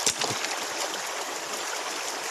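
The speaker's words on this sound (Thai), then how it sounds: "เรากั้นจากทางนู้นนะครับเพื่อจะเอาน้ำไหลมาทางนี้" Stream water runs steadily through a channel dammed with stones to divert the flow, a continuous close rushing and trickling wash with no talk.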